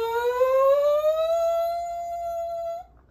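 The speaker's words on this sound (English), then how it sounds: "Eventually, you should be able to make a siren like this." A brass player's lip siren buzzed through a mouthpiece, one smooth rising glide that levels into a steady held tone before cutting off, heard alone and close.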